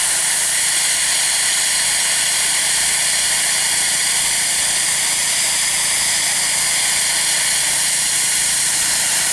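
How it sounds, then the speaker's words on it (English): An airbrush sprays paint in a steady, loud, unbroken hiss while weathering model railroad track, holding constant throughout with no voices. "I'm just going to barely pull back my airbrush."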